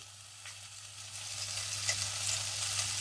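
Ivy gourd pieces frying with turmeric and salt in a pan, giving a steady, even sizzle with faint crackles over a low background hum.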